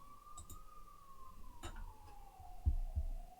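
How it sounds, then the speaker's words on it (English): An ambulance siren passes outside, a steady wailing tone that slowly rises and falls across the clip, heard faintly through a room over low thumps and bumps nearby. "that ambulance is extremely irritating"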